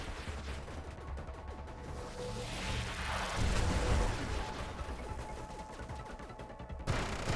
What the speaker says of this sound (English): They're firing their lasers.